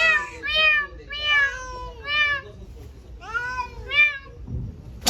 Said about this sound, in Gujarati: જો મિત્રો હું તમને મીંદડી બતાવું